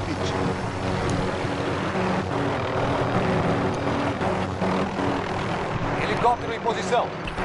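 A helicopter in Call of Duty flies steadily throughout with a dense, continuous rotor and engine roar, loud and unbroken, with some brief higher game sounds toward the end.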